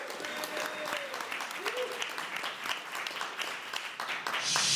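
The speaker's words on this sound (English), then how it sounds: "Guys, can I get a round of applause for my wife" A comedy club audience applauds a comic's wife seated in the back, a dense steady wash of clapping that swells louder toward the end, with faint voices mixed in.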